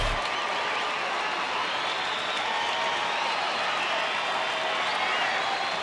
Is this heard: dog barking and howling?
no